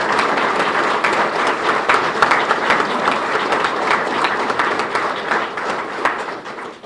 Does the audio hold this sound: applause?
yes